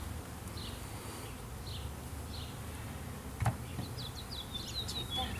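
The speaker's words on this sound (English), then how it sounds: "And there is bees pouring out here." Steady, dense buzzing of many honeybees pouring out of an open hive close by, with a few faint bird chirps in the background.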